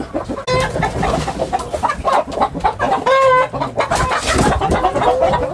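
Laying hens on a poultry farm in the Nilgiris clucking loudly and continuously, overlapping calls and drawn-out cackles filling the space close by.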